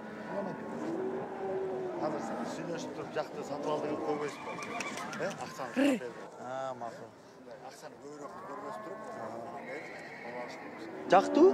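A horse whinnies loudly several times at a nomad camp in Kyrgyzstan, with people talking nearby and a motor humming in the background.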